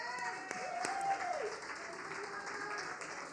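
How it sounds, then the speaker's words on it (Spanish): A church congregation at a Sunday service gives faint, distant applause, a soft wash of clapping that lasts a few seconds beneath a voice and a sustained musical tone. "quiero que le den un aplauso"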